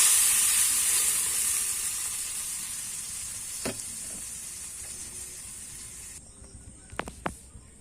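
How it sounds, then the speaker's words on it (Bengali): Water poured into a hot frying pan for a Bengali rohu fish curry with taro hisses into a loud, steady sizzle that slowly fades, with a few sharp utensil clicks near the end. "এখন আমি দিয়ে দেব আমার যতটুকু ঝোলের প্রয়োজন তার পরিমাণ মতো জল।"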